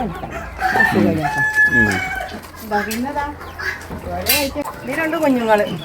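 Native hens including Brahma birds cluck and squawk repeatedly close by, with a rooster crowing among them, while a person talks over the flock.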